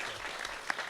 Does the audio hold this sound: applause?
yes